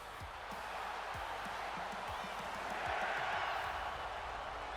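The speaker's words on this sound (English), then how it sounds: "I just heard the crowd go, yeah" Arena crowd noise from the WWE 2K25 wrestling video game as LA Knight is introduced, a broad sustained roar of cheering that swells slightly midway, with faint low thuds beneath.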